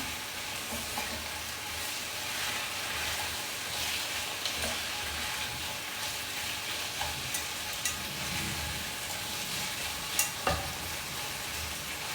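Flour dry-roasting in a pan for a lentil soup, stirred steadily, gives a soft continuous scratchy hiss with light scraping throughout and a couple of sharper clinks near the end.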